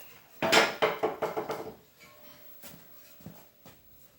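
A cast-iron oil pan being set onto the engine of a 1952 Ferguson TEA tractor gives a cluster of metallic clanks and scrapes over about a second, then a few softer, sparser knocks.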